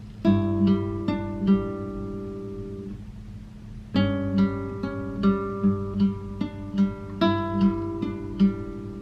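Plucked guitar notes ring out in a slow pattern, two together then single notes one after another, played twice with a pause between.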